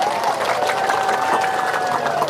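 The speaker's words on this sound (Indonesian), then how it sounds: "Dengerin tuh, tepuk tangan lagi" A crowd claps steadily, close and fairly loud, while a raised voice speaks over the applause.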